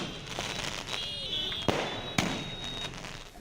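Fireworks bursting at a Maha Navami celebration in Dhamtari, heard as two sharp cracks against a steady crowd-like background roar, with no other distinct sounds.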